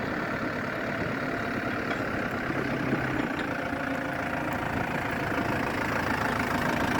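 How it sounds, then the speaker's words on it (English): The diesel engine of a 2005 Hyster H80XM forklift idles steadily at close range, a continuous low rumble with a faint knocking texture and no voices. "Forklift's running a diesel engine."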